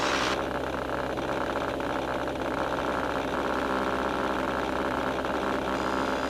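A light training aircraft's engine runs at raised power for a climb to about 1,500 feet: a loud, steady cabin drone that holds constant throughout, with no talk.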